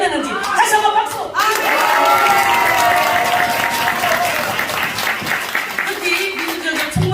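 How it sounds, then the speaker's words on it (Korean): Dense, steady applause fills a congregation at a new-sanctuary dedication service of a Korean holiness church in Los Angeles, loud and close throughout, with cheering voices and talk mixed in. "다시 한번 박수!"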